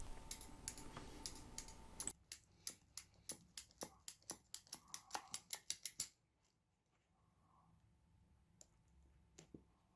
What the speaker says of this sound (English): here's the cutter going on here. It's like a ratchet one, which allows you to cut through this thick cable.